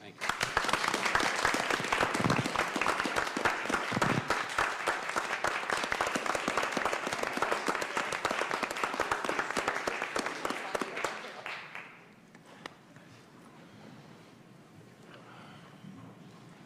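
Applause fills a council meeting chamber, steady clapping from the room lasting about eleven seconds before fading out to quiet room tone with faint murmuring.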